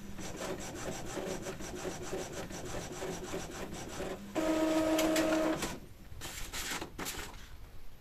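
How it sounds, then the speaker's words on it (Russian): An Epson inkjet printer running, with mechanical rubbing and whirring as the print head moves, a steady motor tone midway, then shorter shuffling passes. "Как видим, начал печатать наш принтер."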